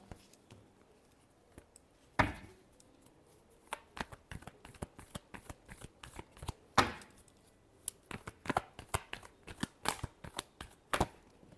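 Tarot cards being shuffled by hand, a quiet run of crisp riffling and tapping clicks, sparse at first then quicker and more regular, close and alone.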